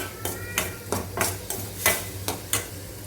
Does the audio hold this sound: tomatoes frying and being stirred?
yes